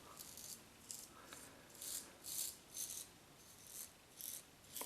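Razor blade drawn through Omega eucalyptus shaving cream on skin, a series of soft, close, quiet rasping strokes repeating at irregular intervals with no voice over them.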